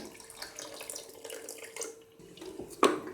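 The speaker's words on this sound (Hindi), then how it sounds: "दाल में उबाल आ रहा है तो इसके अंदर अब मैं 1 कप पानी ऐड कर रही हूँ।" Water is poured from a cup into a pot of boiling red lentils in a home kitchen, giving a steady close splashing trickle for about three seconds with a brief louder splash near the end.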